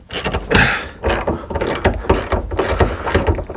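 Bolts on a Jeep JKU rear seat-delete plate system being tightened down with a ratchet, giving a quick run of dense mechanical clicks and ratcheting bursts that repeat close up across the whole stretch.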